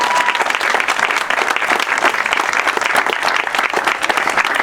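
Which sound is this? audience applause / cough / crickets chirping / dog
audience applause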